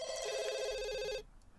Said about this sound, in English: We're answering the phone.